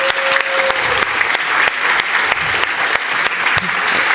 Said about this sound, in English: can we give him another clap